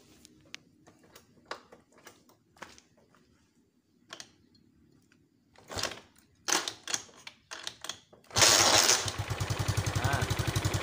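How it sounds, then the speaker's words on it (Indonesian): A stalled Yamaha Mio Sporty motorbike is kicked over: scattered mechanical clicks and clunks from the kick-start lever come first, then the engine suddenly catches and settles into a loud, close, rapidly pulsing idle. "kita akan coba engkol motor ini hidup atau enggak ya."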